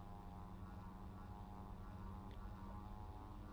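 SeaRey Elite seaplane engine at full throttle in Microsoft Flight Simulator, a steady, loud propeller drone with a constant harmonic hum that holds unbroken from start to finish.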